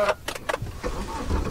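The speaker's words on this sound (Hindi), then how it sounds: "सो गाइस गाड़ी स्टार्ट करते हैं" A car engine is started, with a few sharp clicks and clatters followed by a low mechanical rumble that builds and holds close by, and no talk.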